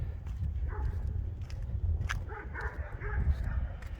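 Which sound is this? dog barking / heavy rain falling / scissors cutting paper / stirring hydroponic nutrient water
dog barking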